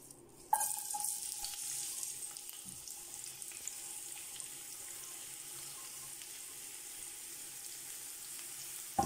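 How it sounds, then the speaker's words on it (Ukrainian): Chopped onions sizzle in a frying pan, starting with a sudden loud hiss as they hit the hot oil, then settling into a steady, even crackle close by. "Цибульку порізали, відправляємо жаритись до сковорідки."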